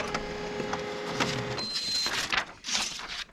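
Mechanical whirring and clicking of a Canon imageCLASS MF269DW printer feeding paper, with bursts of motor noise and a brief high whine, steady and close.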